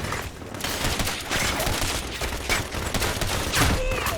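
Gunfire in Ghost Recon Advanced Warfighter 2, loud rapid bursts and volleys of automatic fire that go on throughout, with shots cracking in clusters.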